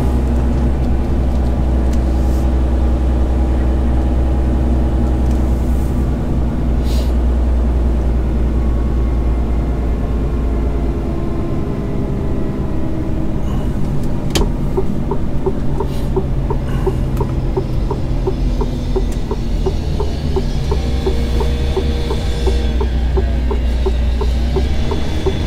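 A truck engine drones low and steady as the vehicle pulls away, a constant loud rumble that holds throughout with slight shifts in pitch as it gets moving.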